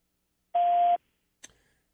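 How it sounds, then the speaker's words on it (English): A single short answering-machine beep, clean and fairly loud, followed moments later by a brief faint click. "Leave a message after the beep."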